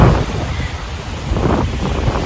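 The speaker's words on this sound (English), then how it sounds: "It's pretty windy." Strong wind buffets the microphone on a rainy, blustery beach in Roatan, Honduras, with waves surging behind it, a loud rumbling roar that swells and eases without any talking.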